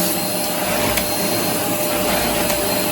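An Asda Goblin GCV304W-19 cylinder vacuum cleaner from 2019 running, a loud steady whirring roar that holds constant close by without talk.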